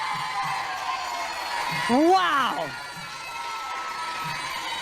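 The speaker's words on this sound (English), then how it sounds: "Look at the audience just break into applause for both these great fighters" Crowd at a Muay Thai fight between Seksan and Rodlek cheering and applauding in a steady broad roar, while a commentator exclaims briefly over it in the middle.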